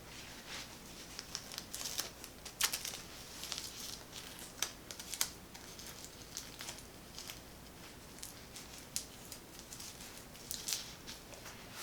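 Medical tape being handled while an arm bandage for lymphedema is secured: soft, close crinkling and scattered light taps and ticks at low volume, with no talking.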